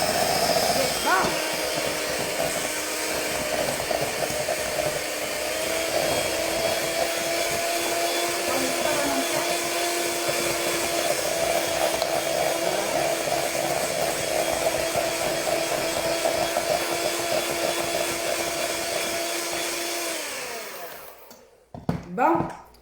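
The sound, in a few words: electric mixer whipping a mixture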